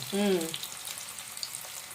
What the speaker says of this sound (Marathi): आता अशी भाजून घेऊ